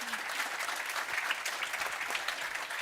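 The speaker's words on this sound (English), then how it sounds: "I want to ask you to give a big applause to our speakers" A conference audience applauds the speakers, dense steady clapping that holds at an even level from start to finish with no talk over it.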